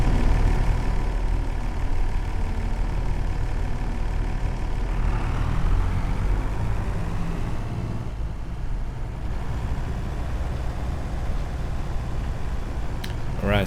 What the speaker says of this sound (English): And I love the sound of this tractor.